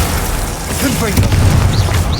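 A Confringo blasting spell going off in the video game Hogwarts Legacy, a deep booming burst under ongoing game sound and a voice, with a couple of brief higher swoops near the end.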